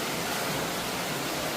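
Water flows inside St. Beatus Cave near Interlaken, a faint, steady hiss of rushing water echoing in the cave with no voices.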